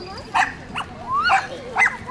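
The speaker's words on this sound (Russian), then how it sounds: "Еще вот новый пес тут появился." A dog at a park playground on a beach promenade in Alanya, Turkey, playing with a ball, gives several short, fairly close barks spaced irregularly over outdoor background noise.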